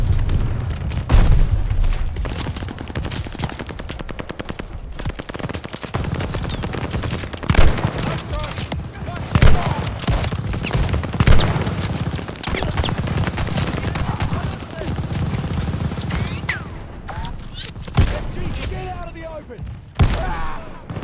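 Turret gunfire from the Battle of El Alamein in Call of Duty: Vanguard: sustained loud machine-gun bursts and booming impacts fill the whole stretch, with shouted voices mixed into the din.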